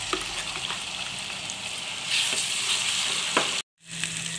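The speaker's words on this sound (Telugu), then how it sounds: "పేస్టును ఇలా వేసుకొని కలుపుకోవాలి. పచ్చివాసన పోయేంత వరకు కలుపుకోవాలి." Spice paste frying in a pan while being stirred, giving a bright continuous sizzle with a few scraping clicks and a brief break near the end.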